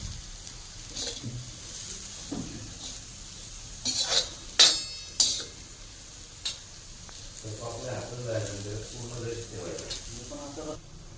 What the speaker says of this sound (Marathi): आता आपण याला छान हलवून घ्यायचं आहे